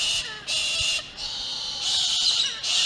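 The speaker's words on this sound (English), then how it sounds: "Birds are loud." Loud, high bird calls by the Edward River come in repeated bursts of shrill, sustained chatter, stopping and starting every half second or so over a faint outdoor background.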